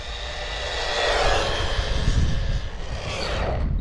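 A JJRC Q117 3S RC car runs at full throttle, giving a loud, continuous high-pitched motor whine with rushing road noise that rises and falls slightly as it passes, with no talk.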